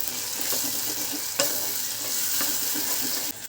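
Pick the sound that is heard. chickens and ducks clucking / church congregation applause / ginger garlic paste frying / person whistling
ginger garlic paste frying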